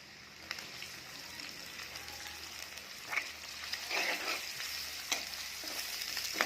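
Onion pieces fry in a pan for a goat liver fry, giving a continuous soft sizzle broken by several scraping stirs, heard close and alone.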